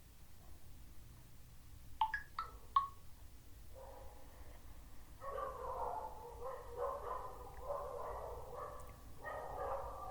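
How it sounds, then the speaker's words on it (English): Several dogs bark outdoors at a distance, a few sharp yelps early on followed by a longer run of repeated barking that carries on steadily under a low background hum. "if you are able to hear some dogs barking outside"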